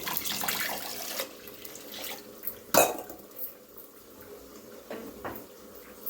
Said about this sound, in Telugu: దాంట్లో కొంచెం నీళ్ళు వేసి